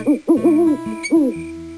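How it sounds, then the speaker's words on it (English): Owl hooting in the Berenstain Bears In The Dark PC game: two close, clear soft hoots with a wavering pitch, heard alone. "The soft cry of the owl."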